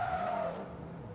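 A car sliding across the finish line on the handbrake in Forza Motorsport 2, a short, faint tire skid with a sustained squealing tone over low engine noise, fading slightly at the end.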